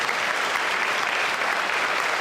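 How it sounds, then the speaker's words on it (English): Audience applause at a geological conference closing ceremony, a dense, loud and sustained wall of clapping from a large crowd, steady throughout with no voices rising above it. "can we give her a round of applause?"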